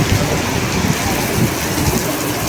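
Heavy rain pours down in a dense, loud, steady roar that fills the whole moment, with no voices.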